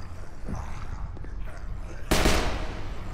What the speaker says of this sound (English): Oh, I shot my gun.